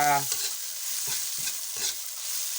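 Thai curry paste for kaeng pa jungle curry sizzles in boiling oil with a bright continuous hiss, broken by a few soft stirring knocks, close and without voices.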